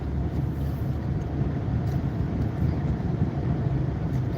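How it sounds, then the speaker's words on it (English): Car driving through heavy rush hour traffic, heard from inside as a steady low road rumble and engine drone with wind buffeting, no talk. "this is a great example of rush hour traffic"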